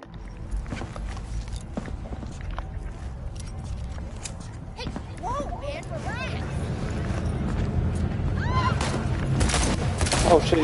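Gunfire rattles in the Cyberpunk 2077 video game as bursts of shots mix with other in-game effects and rising background noise, while a voice talks over the action.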